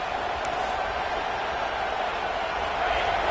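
Broad, steady roar of a stadium crowd at a college football game, Tigers versus Alabama, sustained and distant-sounding without clear peaks, filling the whole stretch with no speech.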